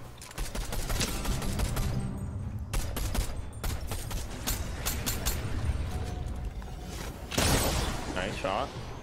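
Gunfire in a Fortnite duo cup match sounds as rapid bursts of shots and rattling fusillades throughout, with a louder flurry near the end.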